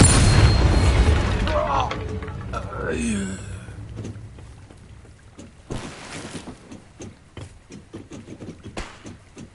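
A Bombarda blast spell from the video game Hogwarts Legacy bursts loudly at the start, a deep booming explosion with a swooshing magical tail, then fades into quieter ambient game sounds and scattered clicks.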